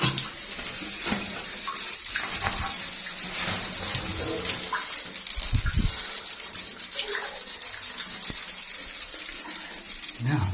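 Water running steadily inside a cave in Bicol, a constant close rushing wash that fills the whole stretch, with faint voices talking underneath.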